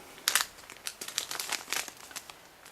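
A thin plastic bag of desert sage that does not reseal is handled up close, giving a run of crisp, irregular crinkles and rustles at low volume with no voices.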